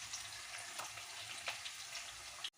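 Puffed rice with turmeric fries in a pan, a faint, even sizzle with soft stirring scrapes, briefly cut off near the end, with no talking.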